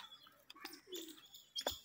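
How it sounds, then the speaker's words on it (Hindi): Faint, soft pigeon calls and brief chirps come from a short distance, a few scattered notes in a quiet outdoor setting. "कबूतर"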